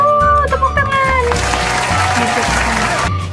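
A short burst of clapping rises for about two seconds, layered over background music and voices, then cuts off abruptly.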